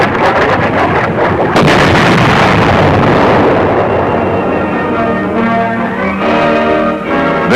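Lacrosse missile striking a bunker, a loud sustained roar of blast and rumble filling the whole stretch with heavy low-end noise and wind-like turbulence.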